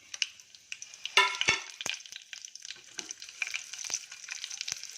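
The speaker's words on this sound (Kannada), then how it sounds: "ಇದೆಲ್ಲ ಸ್ವಲ್ಪ ಚಟಪಟ ಅಂತ ಸಿಡಿಲಿ" Mustard seeds, chana dal, urad dal, curry leaves and fenugreek crackle in about three spoons of hot oil in a cooking pot, bursts of sharp pops over a steady close sizzle.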